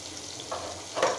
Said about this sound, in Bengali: তেল দিয়ে কিছু পেঁয়াজ কুচি দিয়ে দিব